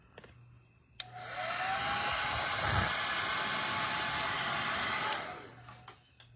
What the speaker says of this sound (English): blow dryer could be your best friend while you're painting